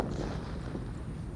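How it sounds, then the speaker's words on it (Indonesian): Small disco firecracker wrapped in paper bursting outdoors: a dense, loud crackling blast that fills the whole moment with continuous rumbling noise and no clear separate pops. "Kita mulai menyalakan dengan mercon disco yang dibuntel dengan kertas guys."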